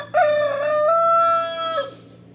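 A Rhode Island rooster crows once, close and loud, a long sustained cock-a-doodle-doo lasting about two seconds with no talk, with faint farmyard fowl in the background.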